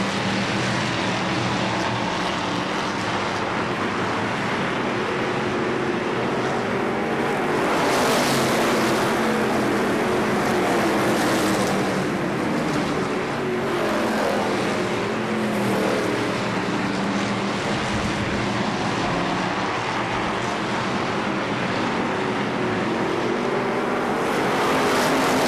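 Race cars at KilKare Speedway in Dayton roar continuously around the track after the green flag, a dense, steady engine drone that swells and fades as the pack passes, loud throughout.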